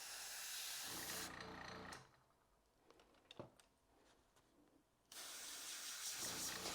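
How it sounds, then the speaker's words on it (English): An airbrush sprays paint for special effects during a painting lesson: two loud bursts of steady hissing air, one at the start and one at the end, with a quieter stretch between them. "And the airbrush, I mainly use it for special effects"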